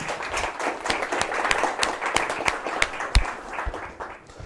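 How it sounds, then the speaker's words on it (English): An audience at an evening talk gives a round of applause, brisk clapping from many hands with some sharp individual claps standing out, steady and close, fading slightly toward the end. "I would like everyone to please give her a round of applause."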